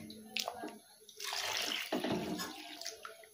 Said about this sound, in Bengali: এবার আমি ডালটার মধ্যে সিম আর জল দিয়ে দেবো